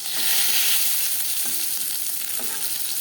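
Fish fries crisp in hot oil over a medium flame, a loud, steady close sizzle with faint soft bumps as pieces settle.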